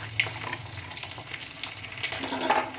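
Vegetables are tipped into hot spice tempering in a pan and sizzle steadily up close, with light stirring noises and no talking.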